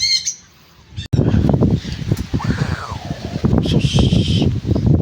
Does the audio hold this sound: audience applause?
no